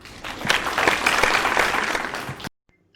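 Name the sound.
applause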